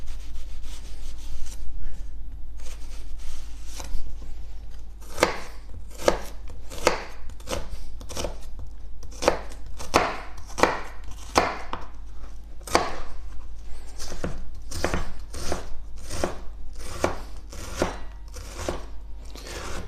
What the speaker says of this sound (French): Alors ciselons l'oignon tout d'abord, si vous le voulez bien.